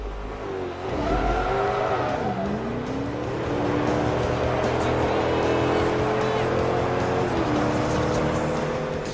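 Race car engines from Forza Motorsport 3 whine and rev with rising and falling pitch, gearshift dips and steady high-speed drone, loud and continuous, with a voice talking over them.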